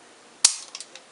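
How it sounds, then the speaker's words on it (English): A Smith and Wesson Pro Series 1911 .45 pistol dry-fires with one sharp, close metallic snap of the hammer, followed by a few faint mechanical clicks in otherwise quiet surroundings. "Now act like you're going to fire it and dry fire."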